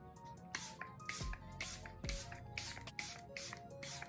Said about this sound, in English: let me add my spray